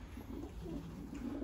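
Konya kulu pigeon giving soft, low, repeated coos close by, faint against a quiet room.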